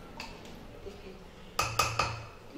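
A spoon stirs vegetarian vegetable stew in a metal pot, giving three quick, sharp clanks near the end after a stretch of quiet, low background hum.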